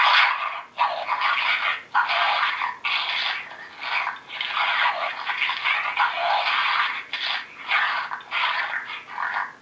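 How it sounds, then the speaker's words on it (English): Raccoon fight recording from a FoxPro Spitfire electronic game call, a harsh, raspy run of squalling and chattering bursts with short gaps, steady and moderately loud throughout, no talking. "This is a raccoon fight."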